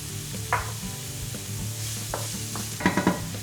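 Onion with chili and salt sautéing in a pan for tofu in green sauce, a steady sizzle with several scraping stirs of a utensil against the pan, close and moderately loud with no talk.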